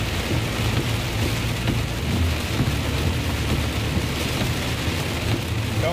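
Heavy rain pours down steadily in Divinópolis, Brazil, a dense, unbroken hiss of drops on surfaces with a low rumble of thunder beneath it and no voices.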